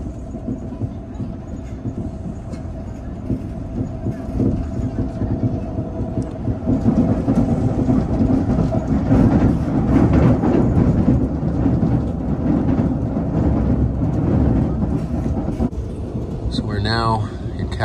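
Aboard an LRC passenger train near Casselman: a steady low rolling rumble that grows louder and rougher after a few seconds, with a rattling burst near the end; a voice talks over it at times.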